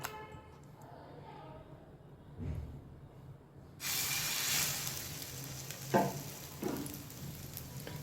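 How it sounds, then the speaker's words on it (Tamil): Egg-dipped bread frying in hot oil on a dosa pan, a quiet lead-in of faint handling and a soft thud, then a sudden bright sizzle bursting up close and continuing with a couple of knocks as the bread settles. "ப்ரெட்டை நல்லா இதில் 2 பக்கமும் முக்கி எடுத்துட்டு அதில் சேர்த்துக்கலாம்"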